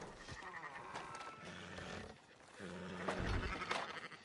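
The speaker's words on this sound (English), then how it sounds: "Fine sheep." Sheep bleat repeatedly over a busy ambient background in Red Dead Redemption 2, several drawn-out calls overlapping, moderately close.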